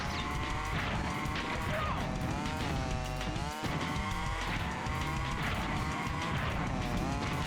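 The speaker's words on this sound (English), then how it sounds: "I like when you drive in the tunnel, it actually sounds like you're driving in the tunnel." A racing car in a video game drives through a tunnel, its engine revving loudly and continuously with shifting pitch, with tire squeals and skidding throughout, close and dominant.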